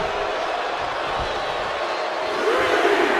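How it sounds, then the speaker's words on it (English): A wrestling crowd in the video game WWE 2K24 cheers and roars as a continuous wash of arena noise, swelling louder toward the end. "she is feeling the electricity from the crowd now"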